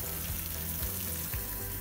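Sugar syrup for candy apples boiling in a pot on the stove, a dense, steady bubbling and sizzling hiss with faint periodic low thumps, close and continuous with no voices.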